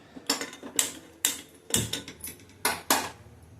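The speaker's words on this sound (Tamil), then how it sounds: "ஸ்டவ்வில் நம்ம வந்து ஒரு குக்கர் வச்சுக்கலாங்க. குக்கர் வச்சு ஸ்டவ் ஆன் பண்ணிக்கலாம்." A metal pressure cooker and utensils clank against a stove in a home kitchen, several sharp separate knocks and rattles at an uneven rhythm, close and alone.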